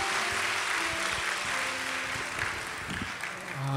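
A church congregation at a Wednesday women's worship service applauds a guest pastor, giving a steady, dense wash of clapping that carries evenly throughout with no pauses.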